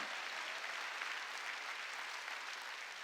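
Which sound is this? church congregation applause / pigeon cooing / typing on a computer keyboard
church congregation applause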